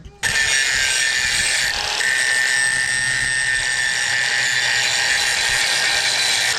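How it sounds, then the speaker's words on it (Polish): A power grinder works on welded metal, giving a loud, steady high whine and hiss that holds almost unbroken from just after the start to the end, close up. "jeszcze z dołu chcę oszlifować"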